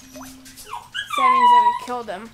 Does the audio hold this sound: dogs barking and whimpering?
yes